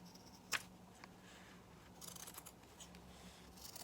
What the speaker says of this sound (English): just taking our scissors and carefully cutting